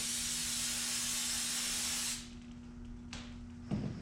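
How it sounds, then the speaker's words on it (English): Non-chlorinated brake cleaner sprayed from an aerosol can, a loud steady hiss for about two seconds that cuts off abruptly, followed by quiet shop background and a couple of small knocks. "You ever shot a little brake clean? A healthy dose."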